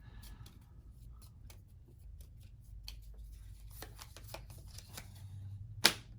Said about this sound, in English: I've got to shuffle my discard deck